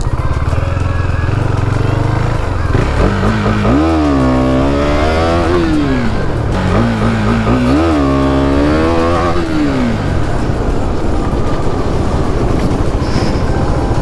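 A motorcycle engine revs during wheelie practice, rising and falling in pitch through repeated throttle swells, loud and close over a constant rumble and wind noise.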